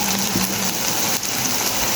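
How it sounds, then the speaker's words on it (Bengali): Lentil and potato fritters (bora) fry in hot oil, giving a dense, even crackling hiss that stays close and steady throughout. "ঠিক এভাবে করে আমি সবগুলো বড়া ভেজে নিব"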